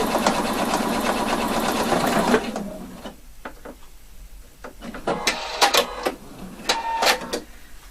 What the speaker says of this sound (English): So now I'm just sewing my side seam.